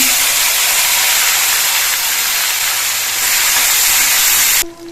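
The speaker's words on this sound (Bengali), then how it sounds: "কালো জিরেটা কয়েক সেকেন্ড ভাজা হয়ে যাওয়ার পর এর মধ্যে আমি টমেটো কুচিটা দিয়ে দিচ্ছি" Chopped tomato hitting hot oil with black cumin seeds in a wok, a loud, steady broadband sizzle and hiss that runs almost the whole time before cutting off abruptly near the end, with no talking.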